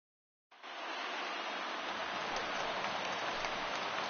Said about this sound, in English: There is rain.